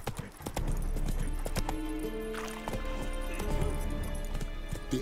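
Roach the horse's hooves clip-clopping along in The Witcher 3, a steady near trotting rhythm of hoof strikes with game music and ambience layered underneath.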